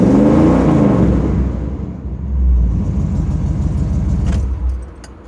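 A Chevrolet Suburban truck engine running nearby with a steady low rumble that swells slightly midway and then eases off, with a brief metallic jingle near the end.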